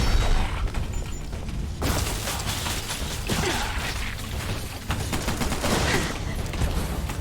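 Gunfire during a boss fight in the shooter game Bright Memory, a dense, continuous stretch of rapid shots and mechanical clatter mixed with whooshes and game effects, loud throughout.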